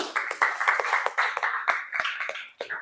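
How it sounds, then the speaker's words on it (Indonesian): A classroom of student teachers claps hands in a loose, uneven patter, individual claps audible near and far, with faint voices mixed in. "tepuk tangan dulu dong buat kita semua"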